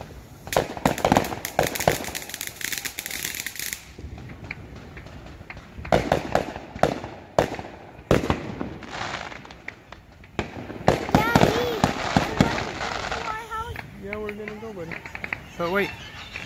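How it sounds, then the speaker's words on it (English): Fourth of July fireworks bursting in repeated loud cracks and booms, clustered in bursts with short gaps between, while people talk excitedly over and between the explosions. "I'm watching these fireworks, bud."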